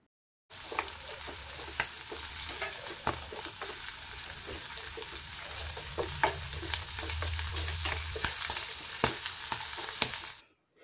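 Chilies, curry leaves and garlic sauté in a pan for mango-ginger pickle, a steady bright sizzle broken by frequent clicks and scrapes of stirring, close and continuous until it cuts off.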